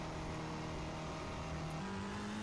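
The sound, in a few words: Ferrari engine at Monza in a racing video game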